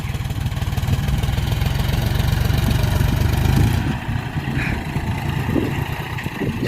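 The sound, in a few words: tractor engine ploughing a field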